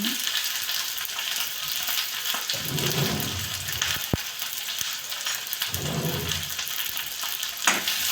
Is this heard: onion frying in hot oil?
yes